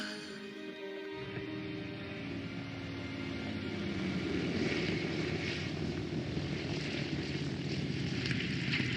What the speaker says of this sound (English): that was the first flight of the Spitfire